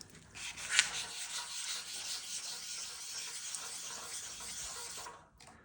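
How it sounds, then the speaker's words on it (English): A chrome car bumper sanded with 400-grit paper on a block, giving a continuous, fairly quiet rubbing hiss with one brief sharper scrape near the start. "I've done this side of the bumper with 400 on the block, but we're going to zoom in here so you can see what happens as I sand this"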